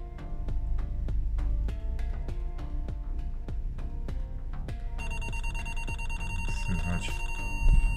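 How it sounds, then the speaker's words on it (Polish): Rapid electronic beeping repeats steadily, a close Opel Corsa D factory reversing-sensor alarm, with the tone pattern shifting partway through to a faster, continuous pitch. "czujniki pipczą, piszczą"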